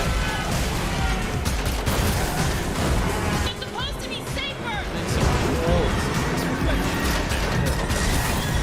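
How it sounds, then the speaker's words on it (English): Video game gunfire crackles in dense, repeated bursts with crashing impacts, mixed with music and other game sounds, loud and continuous over several seconds. "Oh, there's more shooting."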